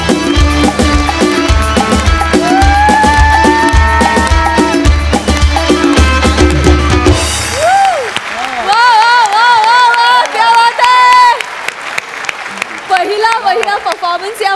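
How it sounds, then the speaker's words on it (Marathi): A stage audience claps loudly and steadily at a Marathi comedy show, the dense applause mixed with music and voices, then fading into brief cheering and further clapping. "मस्त जोरदार टाळ्या."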